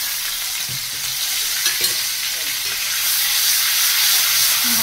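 Spice masala of chilli and turmeric powders with a little water and oil fries and is stirred in a pan, giving a dense, continuous close hiss and sizzle with occasional soft stirring scrapes, loud and unbroken, no speech.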